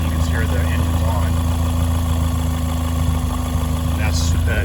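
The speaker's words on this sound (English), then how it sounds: "The engine's on." A 2005 Lotus Elise engine idles steadily and continuously, a loud, even low rumble with a faint higher whine, close by and with no pauses.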